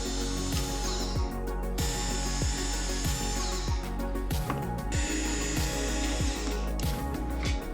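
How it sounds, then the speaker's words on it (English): A power tool drives out T25 Torx screws from a Corvette C8 rear hatch vent grill, giving a steady whirring with regular clicking ratchet-like pulses throughout, fairly quiet and with no voices. "There are 3 T25 Torx screws that will need to be removed that hold the piece in place."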